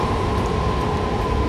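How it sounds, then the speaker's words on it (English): A Class 455 electric train runs in Train Simulator, with a steady, close, even rumble and faint hum of the carriages rolling along the track, with no voices. "A really long train actually. I think that's a 12 car train."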